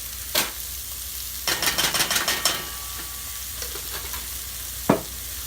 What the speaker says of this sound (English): And then just give that a stir